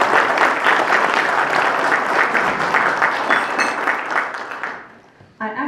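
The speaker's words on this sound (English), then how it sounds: "Round of applause for everybody." An awards gathering crowd applauds honorees and grant recipients, a thick burst of clapping that holds steady, tapers off after about four seconds, then gives way to a single voice.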